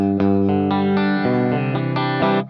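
Electric guitar played through a NUX pedal set to a 6V6 amp model with master and drive fully up, a loud, sustained run of distorted chords changing about every half second, alone with no talk.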